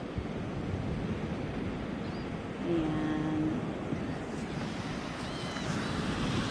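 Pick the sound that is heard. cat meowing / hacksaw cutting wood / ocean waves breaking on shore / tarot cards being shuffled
ocean waves breaking on shore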